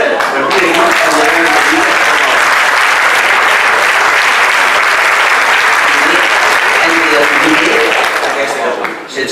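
A conference crowd breaks into loud, sustained applause after an anti-war remark, dense clapping from many hands running unbroken for about nine seconds, with a few voices mixed in beneath it.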